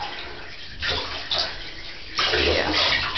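Warm water splashing and pouring in a bathtub as a dog is bathed, with bursts of running water that swell louder in surges, close and steady.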